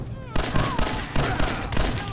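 Gunfire erupting in a Fallout 4 gun battle, several heavy bursts of shots at a roughly regular pace, loud and close, with voice-like game sounds mixed in.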